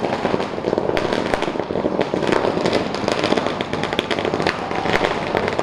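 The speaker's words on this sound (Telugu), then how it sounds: "బస్టాండ్కి వచ్చేసి టపాకాయలు వెలుస్తూ మిఠాయిలు వంచుతూ సంబరాలు జరుపుకుంటున్నారు" A dense, continuous string of firecrackers bursts rapidly at a bus stand, sharp crackling pops overlapping nonstop at close range.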